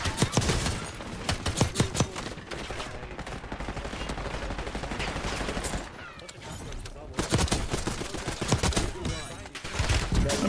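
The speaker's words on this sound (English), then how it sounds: "there's people shooting, bro" Gunfire in Call of Duty Black Ops 6, loud rapid bursts and sharp shots rattling nearly continuously, with a brief lull midway before heavy firing resumes, a voice talking underneath.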